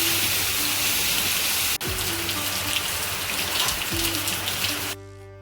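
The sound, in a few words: sudden rain falling outside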